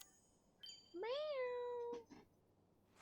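A house cat lets out one drawn-out meow that rises and then slowly falls, close by and clear over a quiet background, with a short softer chirp just after.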